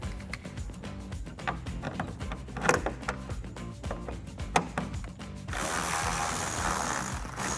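A hand ratchet clicks rapidly and unevenly while loosening 10mm headlight bolts on a 2011-2016 Ford Super Duty, close and sharp, then gives way to a steady mechanical whir toward the end.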